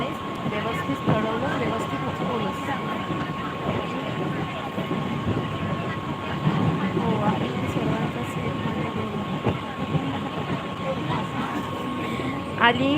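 A passenger train runs with a steady, droning rumble and rattling carriage noise, a constant high whine riding over it throughout.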